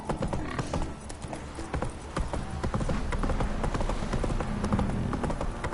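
Roach, Geralt's horse in The Witcher 3, gallops with a steady, fast clatter of hooves close by, running continuously throughout with a faint whinny-like murmur and no speech over it.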